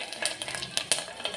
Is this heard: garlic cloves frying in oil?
yes